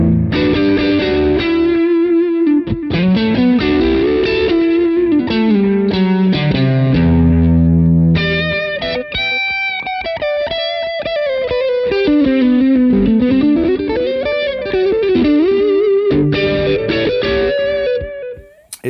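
Electric guitar through a Mooer Radar speaker cab simulator set to a Vox AC30-style amp, playing a continuous run of chords and single-note lines with effects, loud and steady throughout with no voices.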